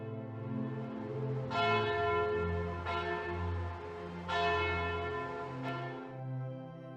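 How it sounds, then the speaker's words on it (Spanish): Church bells ring out in overlapping, resonant peals, strong rhythmic strikes layered over a continuous humming ring, loud and close. "accidentalmente despertó a todo el pueblo con el sonar de las campanas"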